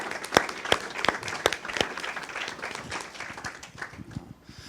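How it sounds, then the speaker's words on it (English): A panel audience gives a quick round of applause for the planning committee, with individual sharp claps standing out early, then thinning and fading toward the end. "give them a round of applause real quick"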